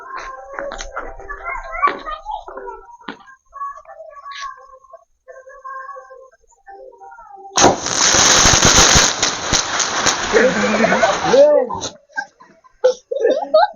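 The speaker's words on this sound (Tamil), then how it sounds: "முதல்ல இந்த 5 ஸ்டார் சாக்லேட் எப்படி வெடிக்குன்னு சொல்லிட்டு வச்சு பார்க்கலாம் வாங்க" A 5 Star chocolate-shaped firecracker bursts with a sudden loud, crackling blast lasting a few seconds, preceded by voices talking and followed by more chatter and laughter.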